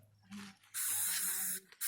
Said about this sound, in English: we're going to go get some bug spray